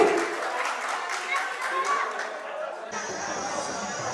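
A crowd at a wedding claps in a burst of applause amid chatter, fading after a few seconds.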